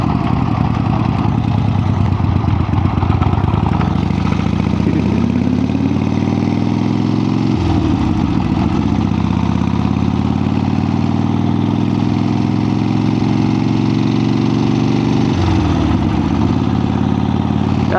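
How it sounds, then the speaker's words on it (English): A 1975 Harley-Davidson XLCH motorcycle with a rebuilt engine idles while warming up, a loud, steady, close-up rumble that shifts pitch a couple of times as the idle speed changes. "Get her all warmed up"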